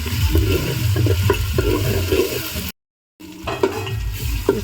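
Chili chicken with onions being stirred in a pan: a loud, close sizzle with scraping spatula strokes, cut by a brief half-second of silence before the frying and stirring resume.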